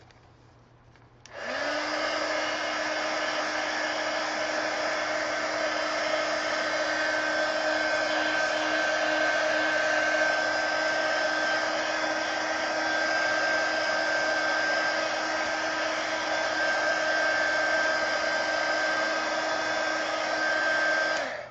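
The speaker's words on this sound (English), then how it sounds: "Let me hit it with the heat gun and dry it." A heat gun blows steadily to dry paint and glitter on a coloring page, a loud continuous whooshing hum with a faint tonal whine that starts abruptly and runs without a break for about twenty seconds.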